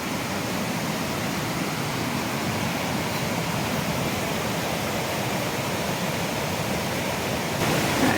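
Muddy, brown floodwater pours over a weir on a river swollen with runoff from the moors, a steady, loud, broadband roar that fills the whole stretch without a break.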